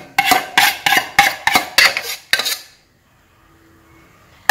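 A utensil stirs pancake batter mixed with blended banana in a bowl, giving about eight rhythmic, loud clinking scrapes before falling quiet.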